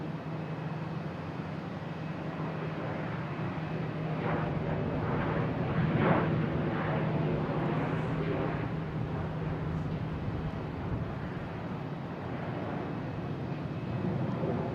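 A Delta airliner arriving at Boston Logan airport from Reagan produces a sustained broadband jet roar that swells to a peak midway and stays loud and steady as it passes.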